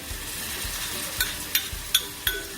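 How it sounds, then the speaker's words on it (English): Spice paste hits frying onions for spicy kheema, keeping up a low, steady sizzle punctuated by four quick, sharp clinks of a spoon against the pan, close and fairly quiet. "the onions are pretty much done, and we add this paste that we made"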